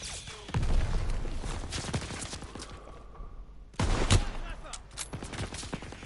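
Gunfire bursts from the World War II shooter Call of Duty WWII on PS4, heavy volleys and booms loud at the start, fading to a lull, then a sharp renewed salvo near the end.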